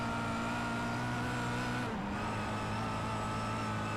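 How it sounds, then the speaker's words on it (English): A Kia touring car in a sim racing game at Zolder gives a steady, aggressive engine drone that dips briefly as it shifts or lifts, then holds again, loud and close with no talking. "It's an angry looking car, isn't it, this Kia? It's an angry sounding car as well. It certainly does make a great noise."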